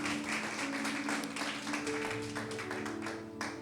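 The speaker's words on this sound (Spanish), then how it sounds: "Me gustaría que le diéramos un fuerte aplauso al invitado principal, Dios." A church congregation during a Sunday service claps in sustained, dense applause at moderate volume, with a faint tonal hum underneath and a brief burst of sharper claps near the end.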